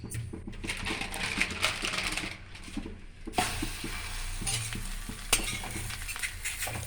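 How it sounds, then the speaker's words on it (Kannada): Sajjaka holige, a sweet semolina-filled flatbread, frying in oil on a hot griddle, a steady close sizzle with light scraping and tapping of a spatula. "ಇವಾಗ ಹಂಚು ಬಿಸಿಯಾಗಿದೆ, ಅದಕ್ಕೆ ಸ್ವಲ್ಪ ಎಣ್ಣೆ ಹಾಕ್ಕೊಂಬಿಟ್ಟು ನಾನು ಹೋಳಿಗೆನ ಹಾಕ್ಕೊತಾ ಇದ್ದೀನಿ"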